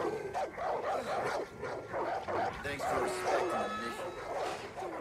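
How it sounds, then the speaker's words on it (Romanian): A pitbull barks in repeated short woofs and yips close by, mixed with excited voices talking over it after an accident. "Uai, ce fain pitbull."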